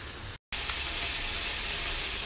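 Pork leg meat frying in a pan with a little water, a steady bright sizzle that cuts out for a split second and then resumes at full strength.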